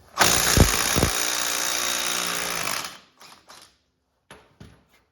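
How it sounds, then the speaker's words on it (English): An impact or power tool zipping a nut off with a 27 mm socket on the front axle of a Suzuki Vinson 500 4x4 ATV, a loud sustained rattling whir for about three seconds, followed by a few short clanks of parts being handled. "27 millimeter to zip off the axle nut"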